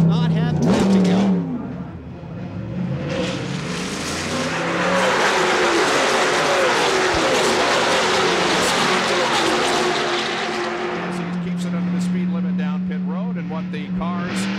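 NASCAR race cars at Daytona International Speedway roar past on the track, rising to a loud, sustained engine blare in the middle and then fading, while an announcer talks over it.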